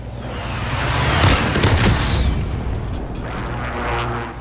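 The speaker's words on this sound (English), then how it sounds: "They're shooting RPGs at the loadout" RPG explosions in Call of Duty on Rebirth Island, a loud booming blast swelling around the middle with crackling debris, then a second rumble near the end.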